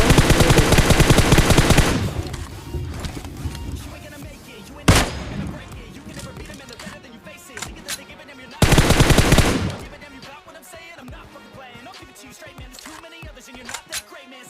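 M4 rifle fire in a solo-versus-squad shooter game: loud rapid automatic bursts at the start, a single sharp shot midway, then another dense burst, with scattered quieter gunfire and game sounds between.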